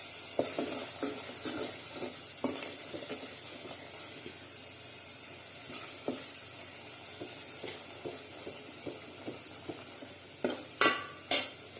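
Masala sautéing in oil for an amti, with a low continuous sizzle and hiss under irregular stirring scrapes, then a few sharper clatters near the end.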